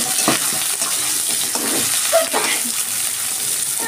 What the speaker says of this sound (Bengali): এবার আমি দিচ্ছি কিছু পেঁয়াজ কুচি